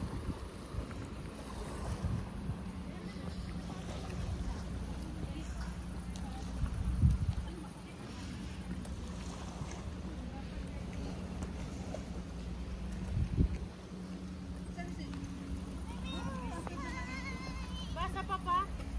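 Steady wind and choppy sea wash around a small boat on a rough, windy day, a continuous roar of wind buffeting the microphone with water surging against the hull, while people talk intermittently throughout.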